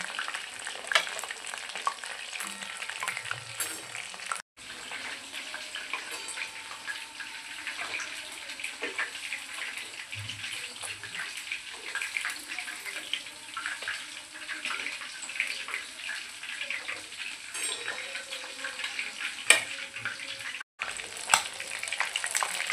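Chicken pieces frying in hot oil for a spicy chicken fry, a steady close crackling sizzle running throughout with brief dips near the start and end, no voices.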